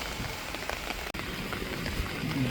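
A sudden rain shower falls outdoors at Malarikkal, giving a soft, steady patter of drops that stays faint and even across the short stretch.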